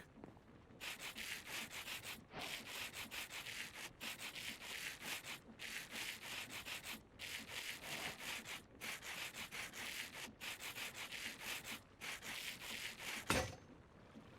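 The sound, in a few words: sanding with sandpaper in Minecraft Create mod, video game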